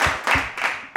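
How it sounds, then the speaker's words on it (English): A short burst of hand clapping from a small group on a golf podcast, a few uneven claps lasting about a second, close and fairly loud with no talking over it. "Give him a round of applause real quick."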